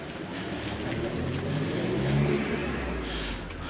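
A Mercedes-AMG A45 accelerating past, its engine note swelling from a low rumble to a peak midway and then fading as it moves off, heard from a moderate distance.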